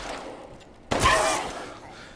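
A single loud gunshot from Resident Evil Village booms out close and sharp, then rings into a short decaying tail after a quiet stretch.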